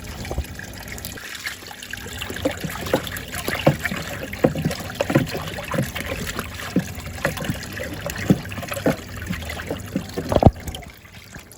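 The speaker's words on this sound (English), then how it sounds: "So what I will do now, I will turn the water pump on." Water trickles and splashes from a pipe in an aquaponics setup for growing trees once the pump is switched on, a steady outdoor dribble with scattered gurgles and a sharper splash near the end.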